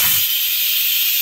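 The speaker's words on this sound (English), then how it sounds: "Got to release some steam." An Instant Pot pressure cooker venting steam after cooking risotto, a loud, steady, close hiss that starts abruptly and continues throughout.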